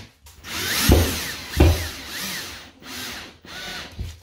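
Plasterboard being cut to size for a ceiling patch, with a handful of rough scraping and sawing strokes, two heavier thuds near the start, then shorter rasping passes up close with brief pauses between them.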